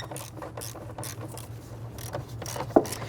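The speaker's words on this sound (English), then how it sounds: "We're going to use our extension and 1/4" ratchet." A 1/4-inch ratchet with an extension loosens a 10mm bolt on a 1999-2004 Jeep Grand Cherokee during a MAP sensor replacement, giving soft, rapid mechanical clicking, close and fairly quiet, ending in one sharper knock.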